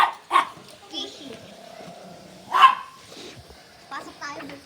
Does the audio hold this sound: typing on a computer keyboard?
no